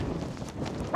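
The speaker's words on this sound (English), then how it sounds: "You're just barking at cows." A pet dog named Bella barks at cows out in the countryside on a camping trip, a single close bark in a brief burst.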